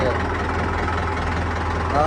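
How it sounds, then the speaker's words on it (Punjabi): A steady low engine rumble from a New Holland 3630 tractor idles continuously, loud and close, with a voice briefly heard over it. "ਨਾ ਇਹਨਾਂ ਟਰੈਕਟਰ ਦੀ ਆਵਾਜ਼ ਆ"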